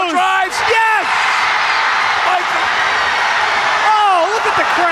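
A high school varsity basketball crowd roars and whoops after a score, a loud dense wall of cheering with shrill yells rising over it.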